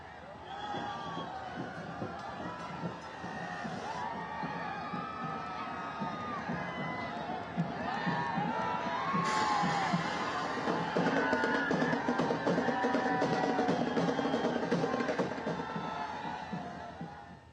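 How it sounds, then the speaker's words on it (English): Thousands of people lining the roads cheer and shout to welcome Prime Minister Narendra Modi in Nasik, Maharashtra, a dense, continuous crowd roar that swells midway, heard under a narrator's voice. "Thousands had gathered on the roads to catch a glimpse of Prime Minister Modi."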